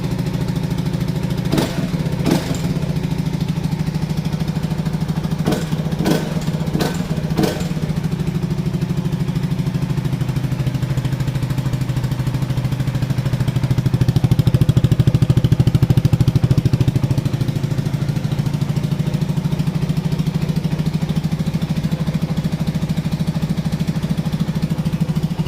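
A CF Moto 300NK motorcycle fitted with a racing exhaust idles steadily with a low rumble, a few brief sharp blips near the start and a modest swell of revs midway, with no voices.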